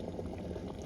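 A mini electric kettle with its top piece removed, water boiling and steaming inside, makes a faint, continuous bubbling hiss that lasts under a second.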